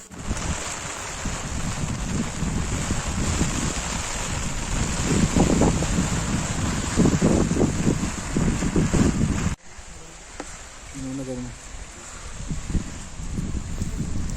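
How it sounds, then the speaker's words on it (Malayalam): Water rushing down a small waterfall crossing a hiking trail in Eravikulam National Park near Munnar, a loud continuous roar that drops abruptly to a quieter flowing wash partway through, with wind buffeting the microphone. "ഈ കാണുന്നത് വേറൊരു വെള്ളച്ചാട്ടമാണ്"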